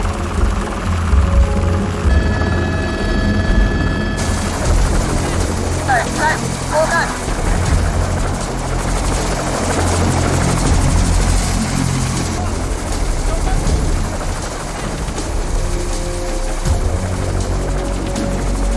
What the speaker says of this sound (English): As the helicopter prepares to leave